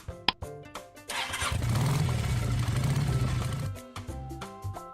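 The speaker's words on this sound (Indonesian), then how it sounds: "motor," A motorcycle engine starts and runs with a rough, rising rumble for a few seconds, then cuts off, heard over soft background music.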